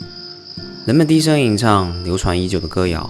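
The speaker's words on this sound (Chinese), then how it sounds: "在黑夜的掩护下，蝉鸣渐起" Cicadas at night keep up a thin, continuous high-pitched drone under a voice speaking or softly chanting in the foreground.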